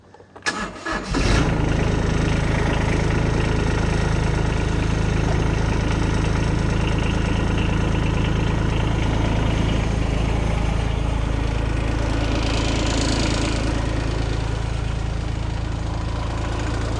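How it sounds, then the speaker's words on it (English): A Mahindra eMax subcompact tractor engine cranks briefly, catches, and settles into a loud, steady low-pitched idle that drones on continuously and close by. "Definitely got to get yourself one of these tractors"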